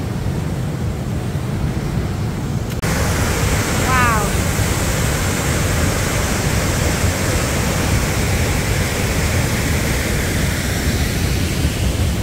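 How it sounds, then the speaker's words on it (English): Tuolumne Falls, a 50-foot waterfall in the Sierra Nevada, roars with a loud, continuous broadband rush close by, steady throughout with a brief high bird chirp partway in. "This is Tuolumne Falls, so that's a 50-foot waterfall"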